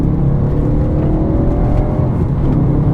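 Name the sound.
Audi V8 engine revving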